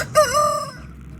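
A rooster crows once, loud and close, a single drawn-out call inside a muddy chicken coop with a faint cluck of hens beneath.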